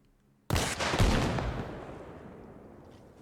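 An RPG fired at an LAV armored vehicle in the Arma Reforger video game, a single sudden heavy boom that swells into a long rumbling, fading roar, loud and close with no voices.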